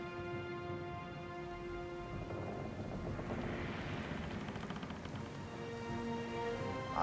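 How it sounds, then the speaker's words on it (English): A thunderstorm in the game Pillars of Eternity II: steady, dense rain with low rolling thunder swelling through the middle, continuous and fairly faint, with no voices. "Storm's picking up! Take cover!"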